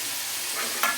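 Tomatoes and meal maker fry in oil for pulao, a steady soft sizzle throughout with a brief stir or scrape near the end.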